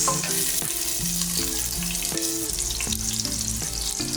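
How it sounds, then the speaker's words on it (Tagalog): Garlic and onion sauté in hot oil for chicken adobo, giving a loud, dense, steady frying crackle throughout with faint tonal sounds in the background and nobody speaking. "So pag mainit mo na mantika, maglagay ng bawang. Magigisan na po tayo."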